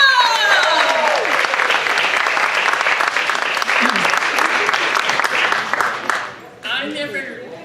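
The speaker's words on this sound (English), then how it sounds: "Let's give her a big round of applause." A comedy-show audience breaks into loud, sustained applause with cheering and whooping voices mixed in, fading near the end as a voice begins to speak.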